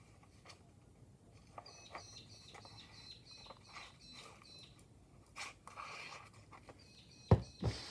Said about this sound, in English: Wow, those birds, so loud today.